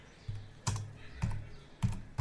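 Computer keyboard typing for a Windows network command, four distinct key presses spaced roughly half a second apart, close and fairly quiet.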